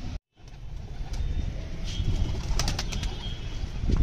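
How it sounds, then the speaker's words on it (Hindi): Pigeons coo softly nearby while wings flap in quick bursts, over a low background rumble. "तो दोस्तों कबूतर बंद करते हैं।"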